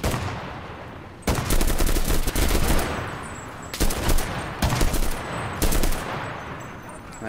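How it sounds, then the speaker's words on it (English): Heavy automatic gunfire in the World War II shooter Enlisted crackles in loud, sustained bursts, broken by brief pauses and several shorter volleys, with no talk over it. "We're gonna go shooting then."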